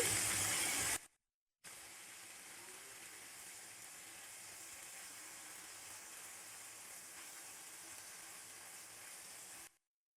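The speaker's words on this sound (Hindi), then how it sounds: "5 मिनट अब हम इसको इस तरफ से फ्राई करेंगे।" Chicken pieces frying over high heat in a pan for Afghani chicken, a steady, even sizzle and hiss that runs for several seconds after a brief louder burst and a short silence, close with no talk.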